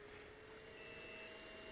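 A powered air-purifying respirator sounds its low-airflow alarm while its air outlet is blocked: a faint, steady electronic beeping tone over the soft hum of the running blower motor.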